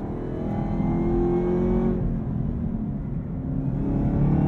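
A 2023 Chevrolet Camaro ZL1 with the 10-speed automatic, heard from inside while driving: a steady, loud engine drone with a brief dip as it shifts, then the engine pulls strongly again.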